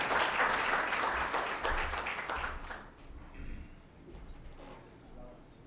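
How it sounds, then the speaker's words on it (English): A crowd applauds the honorable members as they walk out at a World Malaria Day gathering; loud, dense clapping for about three seconds, then it fades to quieter room noise. "A round of applause again to our honorable members as they walk out."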